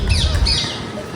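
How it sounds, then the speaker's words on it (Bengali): Parakeets, including Alexandrine parakeets, call in an aviary at Chittagong zoo in a brief, close burst of shrill whistling chirps lasting about a second. "এগুলো হচ্ছে টিয়া পাখি, আর চন্দনা টিয়া, তারপরে মদনা টিয়া"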